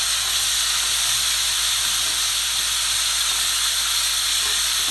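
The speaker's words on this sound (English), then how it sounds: "we're just going to saute that for a couple of minutes until it's nice and soft" Vegetables for a zucchini boat filling sauté in a hot pan, giving a steady, unbroken sizzling hiss at close range with no voices.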